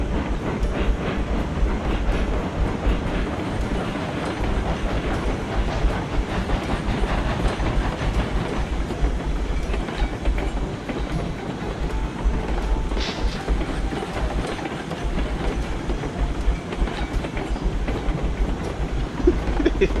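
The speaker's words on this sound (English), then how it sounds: "I'm not hopping this locomotive." A locomotive in the video game Railroads Online gives off a continuous loud rumble with rhythmic rail clatter and a deep low drone, steady for the whole stretch.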